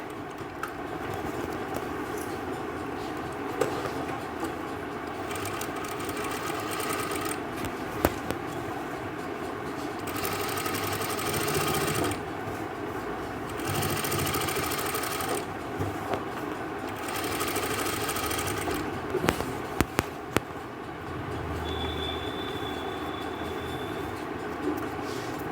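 Sewing machine running a top stitch on a kurti suit in a tailoring class, a steady rapid mechanical chatter with brief pauses and speed changes, close and continuous.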